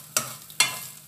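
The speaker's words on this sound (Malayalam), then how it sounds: "മീഡിയം ഫ്ലെയിമിലിട്ടൊന്ന് നന്നായിട്ടൊന്ന് വറുത്തെടുക്കാം. കൈ വിടാതെ ഇളക്കിക്കൊണ്ടിരിക്കണം കേട്ടോ." Grated coconut roasting over a medium flame in a pan for erissery, stirred constantly. Two quick, close scraping strokes of a spoon against the pan stand out over a soft background hiss.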